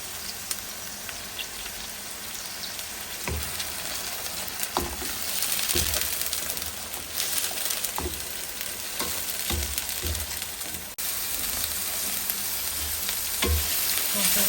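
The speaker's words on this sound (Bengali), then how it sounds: "মশলাটা খুব ভালো করে কষাবো।" Masala sizzles and fries steadily in a pan for a river pangas fish bhuna, a continuous dense crackle broken by periodic spoon scrapes and stirring knocks.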